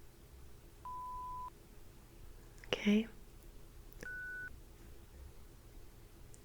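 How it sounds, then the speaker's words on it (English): Two steady electronic beeps from a handheld scanner in a sci-fi cyberpunk neural exam roleplay, the first lower-pitched and the second higher, each about half a second long, separated by a soft rustle, with a brief quiet spoken word between them. "there's going to be a slight beep in different frequencies"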